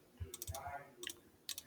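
Soft clicky presses on a calculator keypad come in small bursts of a few taps each, close and quiet, with a faint murmur between them.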